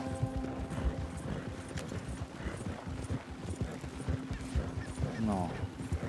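Horse hooves clip-clop steadily on the ground in Red Dead Redemption II, with a short neigh near the end, all under a low constant game hum and some background voice.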